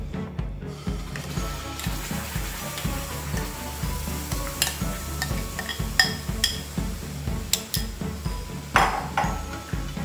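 Tamarind and date paste is stirred in a pan, with a steady rhythmic scraping of a spoon against metal over a constant sizzle, close and loud, with occasional sharper knocks.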